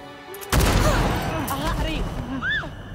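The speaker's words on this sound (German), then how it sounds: "Er knallt sie einfach ab." Gunfire in the PS5 game Avatar: Frontiers of Pandora, a sudden loud blast of shots erupting after a brief quiet lead-in, followed by sustained booming noise with voices and cries layered over it.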